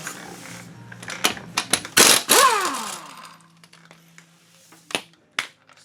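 Final lug bolt being removed from the wheel of an Audi Q5 in a garage: loud metallic clanks and a ratcheting, grinding spin up close, followed by a few sharp scattered knocks.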